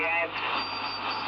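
Realistic DX-302 shortwave receiver tuned to a lower-sideband transmission on a narrow setting, giving a steady hissy, garbled sideband voice with constant static and a low hum, fairly loud throughout.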